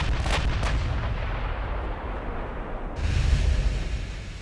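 Heavy battleship main-battery guns firing during a naval battle in Ultimate Admiral Dreadnoughts, a deep rumbling roar of cannon fire and booming blasts rolling continuously, loud and dense with a fresh surge near the end.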